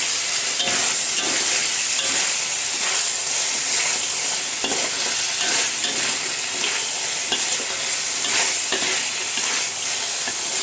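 Chicken adobo sizzles and fries in a pan while being stirred, a steady close hiss of frying with scraping stir strokes throughout and no talking.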